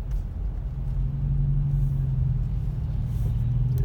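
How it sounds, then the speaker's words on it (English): A car engine drones through a loud or missing muffler, a steady, heavy low rumble heard from inside while driving, with no talk. "that loud noise from the muffler, or lack thereof"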